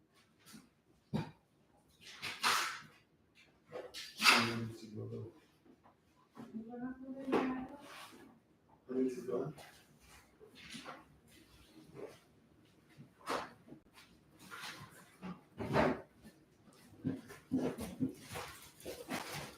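A dog whimpers and gives sharp barks in scattered bursts, with whines between them, and a person talks in the background.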